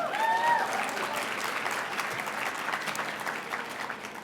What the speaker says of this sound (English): You can cheer for that